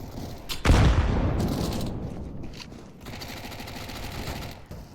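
In a CS:GO match, a single loud sniper-rifle crack is followed by rapid bursts of Uzi fire, sharp close shots echoing over a steady background hum.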